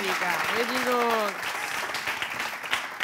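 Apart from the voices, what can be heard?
audience applause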